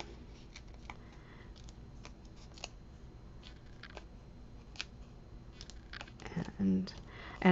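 Cardstock is cut for a sympathy card with soft, close scissor snips and small paper rustles in scattered bursts, followed by a louder handling noise and a short voice at the end.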